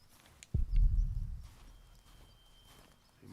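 Horse hooves clip-clopping in the medieval video game The Pillars of the Earth, a short, loud burst of close walking hoofbeats that quickly fades into quiet ambience.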